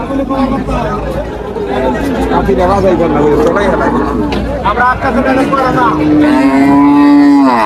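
Cows, including dairy cows, low loudly at the crowded Tepakhola cattle market in Faridpur, a long moo rising near the end above constant crowd babble and nearby voices talking.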